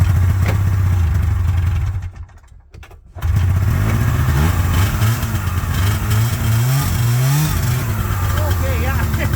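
An old Ski-Doo snowmobile engine runs loud and close, dips briefly, then picks up and keeps droning with rising and falling revs as it moves off in low gear.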